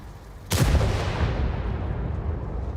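A tank cannon fires in a video game, one sudden heavy boom followed by a long rumbling decay that fills the rest of the moment.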